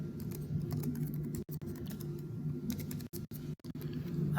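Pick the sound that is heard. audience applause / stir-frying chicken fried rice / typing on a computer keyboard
typing on a computer keyboard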